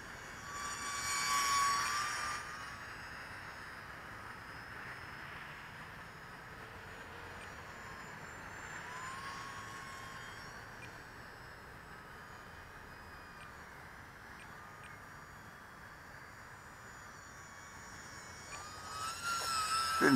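A UMX Turbo Timber RC model airplane flying figure eights, its electric motor a thin steady whine that drifts and shifts pitch as it passes, louder near the start and end, with no talking.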